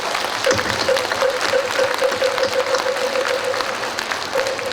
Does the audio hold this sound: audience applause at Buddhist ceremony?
yes